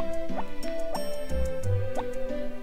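Watering crops with a watering can in the Harvest Moon: Back to Nature farming game, heard as a string of soft, bright dripping plops over looping game music.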